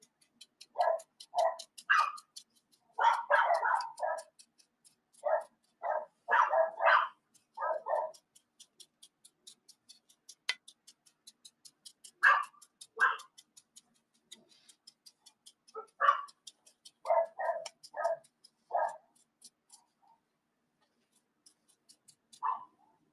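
Neighbouring dogs bark next door in repeated bursts and rapid volleys, fairly distant and steady through most of the stretch, with a few brief pauses and no talk over them.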